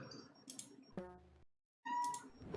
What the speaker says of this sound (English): My cat is freaking out for some reason.